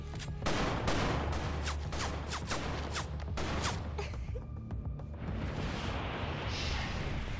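A quick string of sharp gunshots, about a dozen crisp cracks over the first few seconds, rings out in the fighting game Jujutsu Kaisen Cursed Clash before fading into a lower rumbling fight din.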